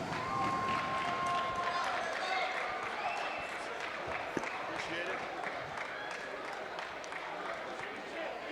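Arena crowd applauds and cheers after a featherweight MMA bout won by choke, a steady roar of clapping and crowd noise heard under an announcer's amplified voice.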